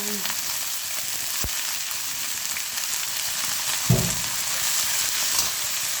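Shallots stir-fried in a pan, a steady low sizzle with a couple of sharp knocks of the utensil against the pan, close and fairly quiet.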